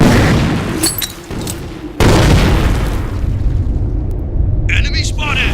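A grenade goes off in the video game Insurgency: Sandstorm with a loud, sudden boom that rumbles and fades amid gunfire and in-game voices shouting.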